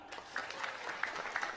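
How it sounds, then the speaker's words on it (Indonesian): A sermon audience gives a short round of clapping, steady and moderately loud across the room, with no voice on top. "Tepuk tangan."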